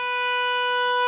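A single sustained bowed viola note, steady and even with no pulsing, held alone at moderate level for about a second with a rich stack of harmonics.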